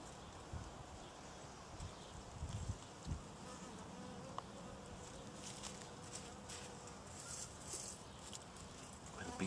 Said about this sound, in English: The bees are all over this stuff.